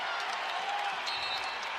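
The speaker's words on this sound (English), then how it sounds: "Hawk fans on their feet, cheering their beloved Hawks on." Iowa Hawkeyes basketball fans on their feet cheering during the Big Ten Tournament championship game against Purdue, a steady roar of crowd noise and applause filling the arena at an even loudness throughout.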